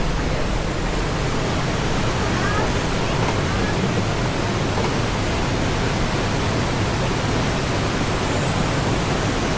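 Waterfall in Vietnam, a steady, dense roar of falling water filling the whole stretch, loud and continuous with no other distinct sounds.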